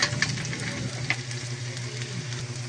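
Ginger sautés in a pan in a home kitchen with a steady, close, moderate sizzle, broken by a few louder crackles and light stirring, with no talking.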